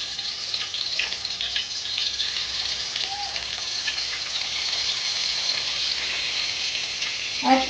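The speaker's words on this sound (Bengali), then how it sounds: "এক পিঠ ভাজা হলে অপর পিঠ উল্টে দেবো, আর গ্যাসের ফ্লেমটাকে মিডিয়ামে রাখবো, আস্তে আস্তে করে ভাজবো" Boal fish pieces, coated in salt and turmeric, fry in hot mustard oil in a wok over a medium gas flame, giving a steady close sizzle and crackle throughout with a brief louder bubbling burst at the end.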